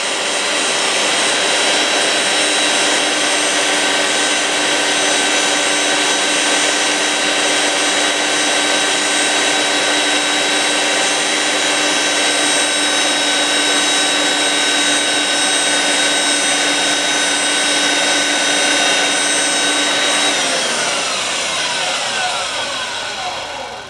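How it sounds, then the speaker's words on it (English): A high-end two-speed gearbox drill bores a 49/64 inch hole through 3/8 inch steel for a bumper, giving a loud, steady, high-pitched whine that holds constant for about twenty seconds and then tapers off near the end. "this is the 2-speed gearbox here. Kind of a high-end drill."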